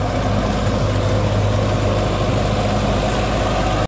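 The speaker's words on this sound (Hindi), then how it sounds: "ट्रैक्टर दूसरे गियर में चल रहा है, दूसरे के लो में 1500 RPM के साथ में आप देख सकते हैं" A Sonalika DI 750 III DLX four-cylinder tractor runs in second gear low at about 1500 RPM, its loud, steady diesel drone continuous throughout with a sharp knock at the very end.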